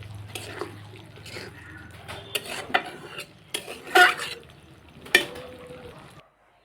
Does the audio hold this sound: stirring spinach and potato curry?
yes